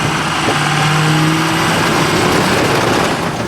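A Ford 6.0 Powerstroke diesel engine revs steadily to build boost, producing a loud, continuous close-up drone with a rising turbo whine underneath.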